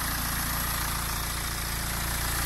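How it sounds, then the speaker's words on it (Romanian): Small tractor engine idling steadily with its timing drive running, a continuous close mechanical drone with a fine regular ticking pulse throughout, no talk over it. "Dacă se aude sau nu, da, distribuția chiar sună frumos la motorul ăsta."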